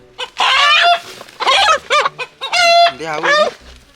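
A rooster crows loudly and close up in several drawn-out calls broken by short clucks, filling the brief stretch with rising, strained cries.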